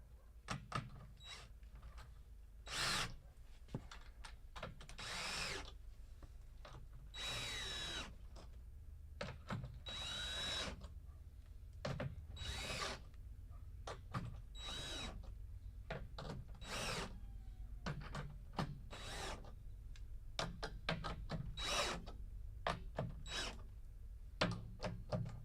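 A power drill runs in repeated short bursts while tightening a part during an unboxing, with ratcheting clicks between the bursts over a steady low hum.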